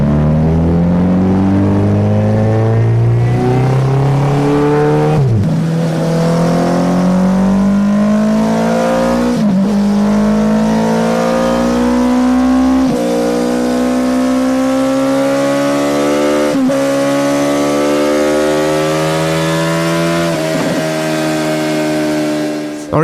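A Suzuki Hayabusa motorcycle engine revs loud and close, rising in pitch through long pulls, with a few sharp gear-change dips along the way, and nobody talks over it.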